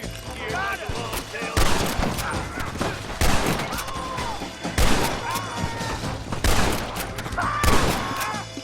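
Repeated bursts of gunfire in the Western video game Red Dead Redemption, loud volleys cracking out roughly every second or so amid a busy mix, with voices talking between the shots.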